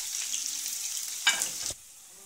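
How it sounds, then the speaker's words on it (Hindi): Onions dropped into hot oil for dal gosht, a steady broadband sizzle that bursts louder for a moment as they hit the pan, then cuts off abruptly, close and without talk. "अब हम इसमें प्याज डालेंगे और इसे लाइट ब्राउन करेंगे"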